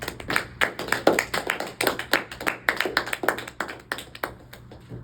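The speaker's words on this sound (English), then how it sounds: "So give a big round of applause for them." A small meeting audience applauds its coordinators, with many distinct hand claps in a steady, lively patter close by that thins out near the end.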